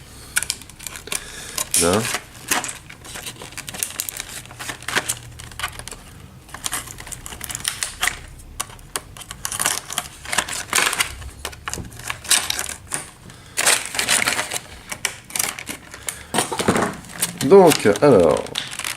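Packing tape being peeled and torn off a Rising Sun board game box, dense crackly ripping and crinkling in repeated close bursts while someone speaks French briefly.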